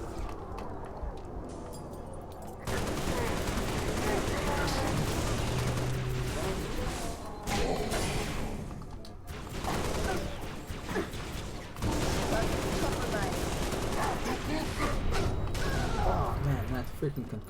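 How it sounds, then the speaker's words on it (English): Concussion rifle blasts from Halo Infinite firing in dense, repeated bursts with explosive crashes, loud and sustained across most of the stretch, with a voice talking over the gunfire. "Freaking concussion rifle."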